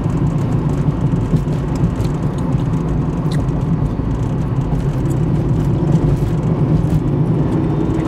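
A 1985 Toyota Supra driving on a road heard from inside, a steady loud engine and road drone with constant rumbling tire noise and no breaks, no one talking.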